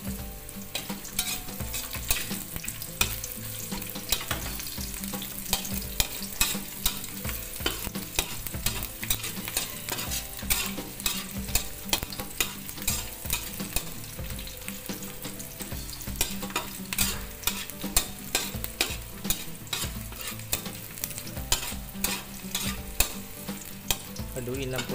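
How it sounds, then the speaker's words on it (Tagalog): Onions and garlic fry in a pan for chicken feet adobo, a loud steady sizzle with constant stirring scrapes and clatter throughout and no voice over it. "Haluin lang po natin hanggang sa bumango po yung amoy ng sibuyas at bawang."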